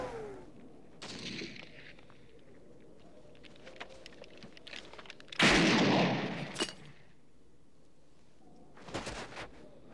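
A grenade explodes in the 1982 film The Thing, a loud roaring burst in the middle followed by rumbling debris, framed by softer scattered noises and another short blast near the end.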